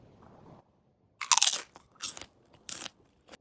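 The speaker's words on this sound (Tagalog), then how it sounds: "like every crunchy bite of these crunchy banana chips" Four crisp, loud crunches of crunchy fried banana chips being bitten, spaced irregularly with quiet gaps between them, close up.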